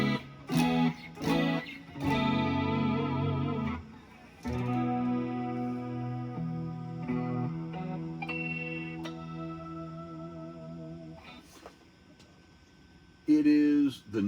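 An electric guitar runs through an Axe-Fx effects processor and is recorded at home through an audio interface. Sustained distorted chords and single notes ring out with chorus and echo, then a sharp burst of strumming comes at the end.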